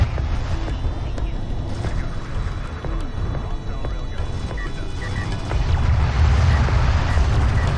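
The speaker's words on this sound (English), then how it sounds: "that's a really good air burst right there." An air burst explosion in the Homeworld: Deserts of Kharak real-time strategy game sounds as a heavy, continuous low rumble of booms amid the battle's din, loud and dense throughout.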